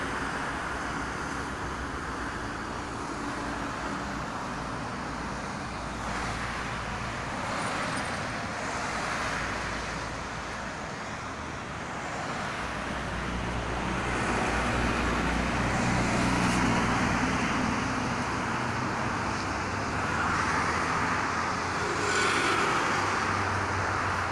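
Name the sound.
traffic of private cars on Jakarta–Cikampek toll road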